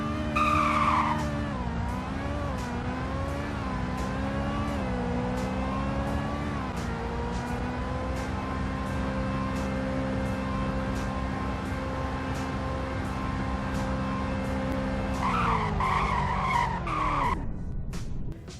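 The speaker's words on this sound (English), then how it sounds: "Now for a 0 to 100 braking test." A car in the Roblox game Greenville brakes hard from 100, its tires skidding in a long sustained squeal over the engine's falling drone, ending with a brief rise and a sudden cutoff.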